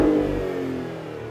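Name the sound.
Maserati Grecale Trofeo engine revving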